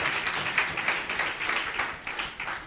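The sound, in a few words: audience applause at alumni dinner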